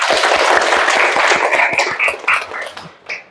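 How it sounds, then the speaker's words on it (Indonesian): Students in a classroom clap, a brisk patter of hand claps that thins out toward the end, with a few voices rising underneath as it fades. "tepuk tangan dulu"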